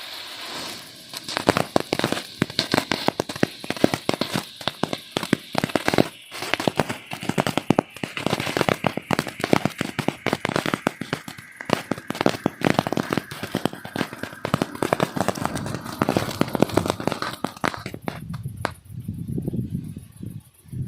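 A Klasek CST12S crackling and strobe fountain firework burns with a dense, loud stream of rapid pops and crackles for most of the time, thinning out and fading near the end.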